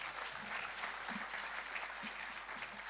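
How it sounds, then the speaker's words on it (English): Steady applause from an audience at an innovation labs demo day, a dense continuous wash of clapping held at an even level throughout. "A round of applause for World of Crayfish"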